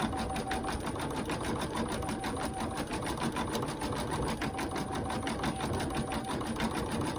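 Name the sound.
sewing machine running, possible bobbin problem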